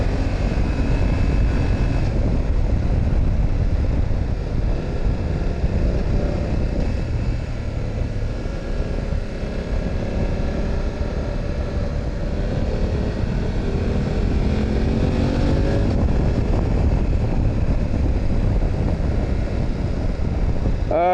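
A BMW F900GS rides over gravel in first gear, giving a loud, continuous engine drone with steady wind rush that holds throughout.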